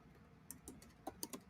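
Soft, irregular keystrokes on a computer keyboard, a handful of quiet clicks tapped out slowly and unevenly, faint against a low room hum with no talking.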